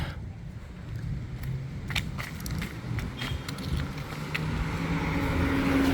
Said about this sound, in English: there goes the tourist boat, the hop on, hop off